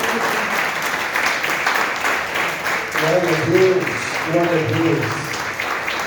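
A church congregation applauding, steady clapping throughout while a voice calls out praise over it partway through.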